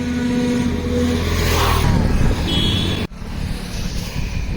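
Highway traffic on the Thiruvannamalai–Chennai road roars past, with vehicles whooshing by one after another and a constant engine rumble underneath, loud and close.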